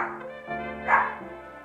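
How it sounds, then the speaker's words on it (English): A dog at home gives a short, tonal bark or yip, heard over a steady harmonic drone. "We can play it off actually to the dog barking."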